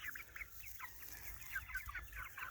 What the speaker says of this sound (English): that's what the Blue Star chickens look like at 9 weeks old